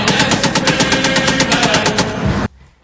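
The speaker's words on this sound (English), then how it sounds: "It's a machine gun!" Rapid machine gun fire in a meme clip, a loud, fast and steady burst of evenly spaced shots that keeps going for over two seconds and then cuts off abruptly.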